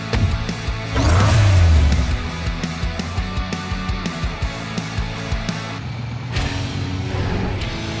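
Toy car engine from the Hot Wheels Unlimited 2 mobile game, Gunkster and Bone Shaker in a stadium, revving steadily under game music with a louder surge of acceleration near the start.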